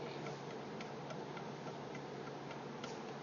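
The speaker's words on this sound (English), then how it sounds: "that noise is basically the backboard going back and forth because this hole is a little bit larger than what it needs" A pottery wheel's loose backboard, shifting in an oversized hole, rattles in a faint steady ticking over a constant whirring hum.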